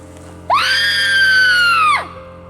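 A single sustained human scream carried across open ground in an audio range test, rising sharply and holding steady for about a second and a half before cutting off, clear above a low hum.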